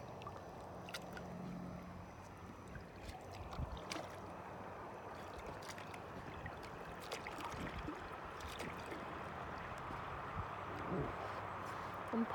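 A rubber raft paddled across open water, with soft splashes and gurgles from the strokes mixed with broadband water noise at close range, set against a faint steady background.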